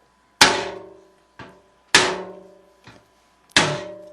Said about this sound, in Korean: 망치와 끈을 꺼내 엔진에 찍혀있는 넘버를 내리쳤다